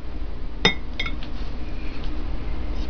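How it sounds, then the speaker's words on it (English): A glass jar of homemade apple butter clinks and pops open with one sharp ringing knock followed by a couple of lighter clinks, close by against a low background hum. "And we'll pop open our apple butter"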